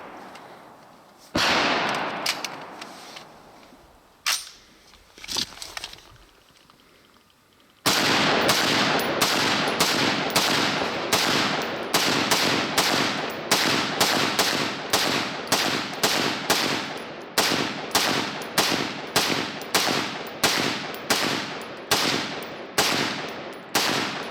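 Rifle firing repeatedly through a red dot sight on a range: a few scattered shots early, then a long, loud, rapid string of evenly spaced gunshots with sharp cracks and no talk.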